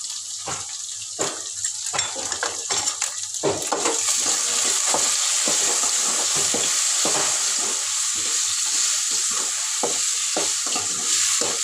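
Sliced okra frying in a hot pan, a steady loud sizzle that grows denser partway through, broken by repeated scraping stirs of a utensil against the pan.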